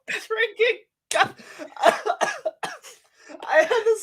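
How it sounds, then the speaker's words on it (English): A man coughs several times in quick bursts, close and fairly loud, the harsh hacking fits separated by brief pauses with breathy throat sounds between them. "start coughing like I just did"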